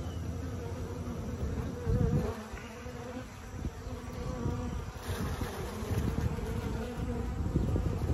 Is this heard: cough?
no